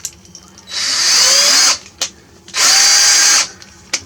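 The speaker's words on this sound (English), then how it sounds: "drill out the first bit," Two loud bursts of a cordless drill boring into metal on a 1980 Triumph TR7 during water pump repair, each about a second long, separated by short pauses with small clicks.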